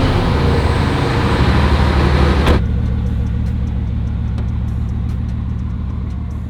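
A car engine running and then cutting off, loud rumbling idle close by that stops abruptly partway through, leaving a quieter low hum with faint clicks afterward.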